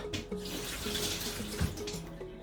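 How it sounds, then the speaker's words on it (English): Fresh produce being rinsed under a running kitchen tap, a steady close stream of water splashing with small bumps as items are moved through it; no speech. "Washed in clean water."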